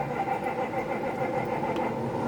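A farm tractor engine runs with a steady, rumbling idle after a cold start, before heading out to take in corn with old-school 1990s tillage equipment.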